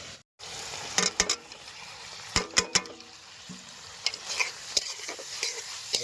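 Spiced chicken samosa filling with turmeric, cumin, coriander and chili powders being stir-fried in a pan: sharp spatula scrapes and knocks come in uneven bursts over a soft sizzle, after a brief silent moment at the start.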